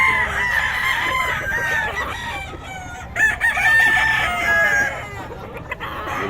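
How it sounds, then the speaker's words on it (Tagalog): Chickens and roosters crowing repeatedly at a market where fowl are being sold, several overlapping cock-a-doodle-doo calls and clucks ringing out close and loud for the whole stretch, no talking. "Gulo ng manok."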